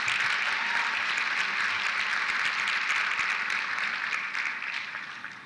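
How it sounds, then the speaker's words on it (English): Sustained applause from an audience at a college science awards ceremony, a dense even wash of many hands clapping that holds steady, then thins slightly toward the end. "Let's give her a nice round of applause."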